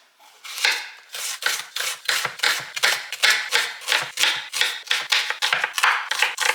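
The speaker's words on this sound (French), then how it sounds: "je vais venir hacher 3 oignons" A knife chops three onions on a cutting board, a steady run of about twenty crisp, evenly spaced chops close by with no talking.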